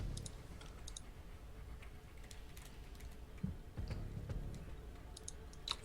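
Fast, light clicking of a computer keyboard being typed on, close and fairly quiet, with irregular bursts of keystrokes over a faint background hum.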